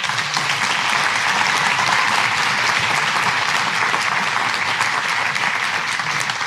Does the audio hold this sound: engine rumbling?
no